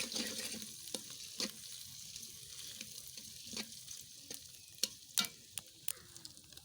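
Two eggs frying in a pan for fried rice give a soft, steady sizzle with scattered sharp clicks and scrapes of a utensil, fairly quiet and close, with no talking.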